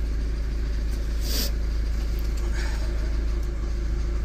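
A moped engine idles steadily and close, a continuous low mechanical drone with faint higher clicks on top and no talking.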